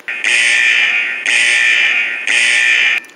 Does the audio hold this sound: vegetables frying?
no